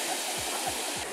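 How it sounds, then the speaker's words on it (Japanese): A waterfall on a golf course gives a steady, broad rushing roar close by for a short moment, with a few soft low thumps beneath it. "滝がある。"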